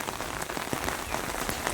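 First monsoon rain of the Shravan month falling on flooded village farm fields, a steady dense patter of raindrops on water and ground, close and continuous with no talk.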